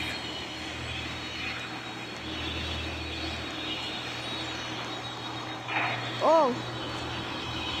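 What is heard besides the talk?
airplane flying at an airbase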